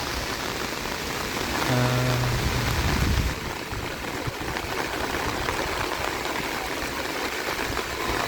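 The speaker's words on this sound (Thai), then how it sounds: "ฝนตกคักตกแน่ดีดอกนี่เนาะ" Heavy rain pours steadily across the whole stretch, a dense close hiss with a brief low rumble partway through, no voices.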